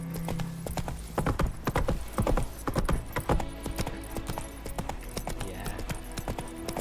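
Roach the horse gallops in The Witcher 3, a rapid, steady run of close, loud hoofbeats with a brief whinny-like tone mixed in, no voices.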